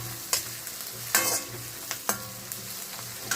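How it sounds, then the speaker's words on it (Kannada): Onions fry in a pan for a tomato gojju, a soft continuous sizzle broken by several sharp scrapes of a spoon stirring them, close up with no talking. "ಈರುಳ್ಳಿ ಹಸಿ ವಾಸನೆ ಹೋಗೋ ತನಕ ನಾವು ಫ್ರೈ ಮಾಡ್ಕೊಳ್ಬೇಕು"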